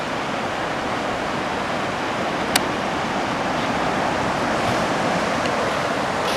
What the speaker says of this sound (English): and listen to the water pound.